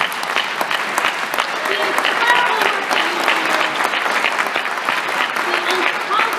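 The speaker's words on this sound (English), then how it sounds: "could you all please just stand up so we could applaud you appropriately?" A crowd at an MSAA event applauds the staff members as they stand; continuous, fairly loud clapping runs throughout while a speaker keeps talking over it.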